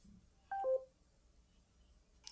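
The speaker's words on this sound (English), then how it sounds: "My phone's going off." A smartphone signals an incoming Alexa call with a short, clean two-to-three-note electronic chime, brief and fairly faint in a quiet room.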